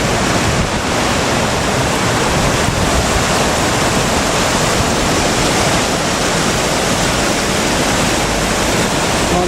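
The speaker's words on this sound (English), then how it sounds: "There's an overflow out of the lakes." Water overflowing out of the lakes at Belfast Waterworks pours in a loud, steady, broadband rush, like a small weir or cascade, constant and close for the whole clip.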